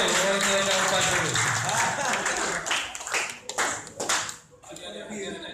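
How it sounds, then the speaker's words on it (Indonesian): Audience applause at a Fahmil Qur'an quiz competition in Nagan Raya, 2019, a burst of many hands clapping that thins into scattered claps as voices take over. "kita berikan tepuk tangan dulu untuk jawaban dulu"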